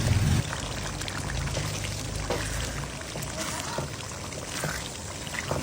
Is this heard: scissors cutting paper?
no